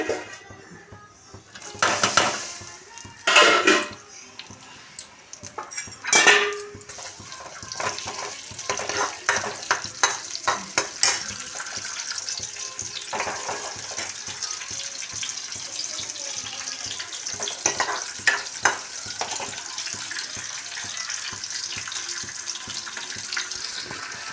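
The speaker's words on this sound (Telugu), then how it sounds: "ఉల్లిపాయలు వేగాయి కదండి" Sliced onions sizzle in hot oil in a pan while a utensil stirs them, bringing repeated scraping and clattering bursts over a continuous close frying hiss with no talk.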